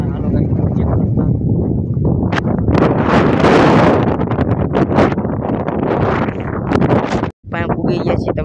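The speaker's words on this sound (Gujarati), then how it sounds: "પવન બહુ છે" Strong wind buffeting the microphone outdoors, loud gusty roaring that swells and drops, with rustling in the background and a brief cut near the end.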